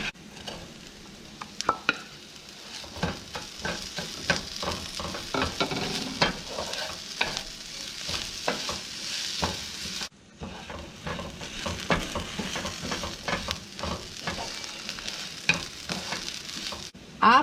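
Rice and potato fry in a pan for Querétaro-style Spanish rice, a continuous close sizzle broken by repeated stirring scrapes, with one brief pause partway through and no talking.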